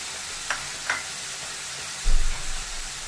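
Onions with green chili and curry leaves sautéing in a pan for crab gravy, a low steady sizzle with two light utensil clinks and a brief louder stirring burst near the end, close and alone.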